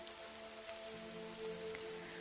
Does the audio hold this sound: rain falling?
yes